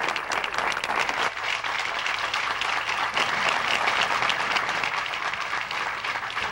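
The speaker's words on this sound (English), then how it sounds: "Then the crowd scream and holler." A crowd cheers and applauds after a political speech by a Boston mayor in a neighborhood setting, with dense, loud, sustained clapping throughout.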